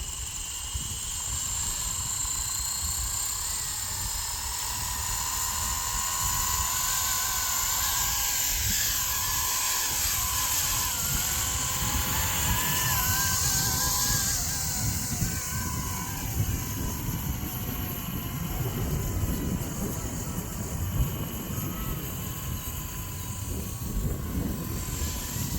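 A small RC helicopter flies outdoors in wind, its steady high-pitched rotor and motor whine holding for the whole stretch with gusty rumble underneath and no talk.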